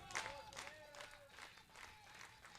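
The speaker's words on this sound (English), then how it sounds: "Crowd making some noise here for Manny Herrera." A baseball crowd cheers and applauds for batter Manny Herrera with the count full and one out, a steady wash of clapping and voices rising in several swells over about three seconds.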